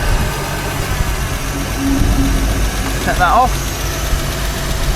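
A petrol car engine idles with a steady low rumble and slight knocking vibration, while someone speaks briefly over it.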